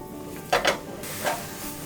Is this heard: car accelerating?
no